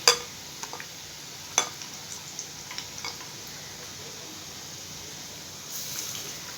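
Brinjal bajji frying in a pan, a quiet steady sizzle with a few sharp clicks and taps from stirring, close by and faint.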